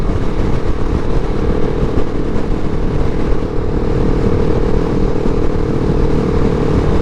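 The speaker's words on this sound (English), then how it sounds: "A quick shifter going up there" A 2019 KTM 690 SMCR single-cylinder motorcycle cruising near 60 mph, its steady engine drone and wind noise continuous and loud, with upshifts through the quick shifter barely standing out; no talking.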